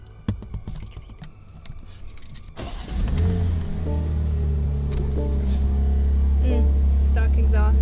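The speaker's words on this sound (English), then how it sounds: "Stock exhaust, nothing like it." A BMW M2 with its stock exhaust starts up. Clicks and door sounds come first, then the engine catches and settles into a steady, loud, close idle hum. Voices murmur faintly underneath.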